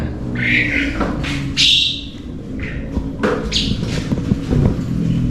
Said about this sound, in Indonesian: Nah, ini kenarinya teman-teman nih.